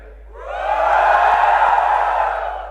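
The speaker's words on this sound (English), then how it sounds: "Mi fans, give me a cheer." A roomful of Mi fans at a Xiaomi Redmi K20 series launch event whoop and cheer together, the shouting swelling quickly into a loud, sustained roar before easing slightly.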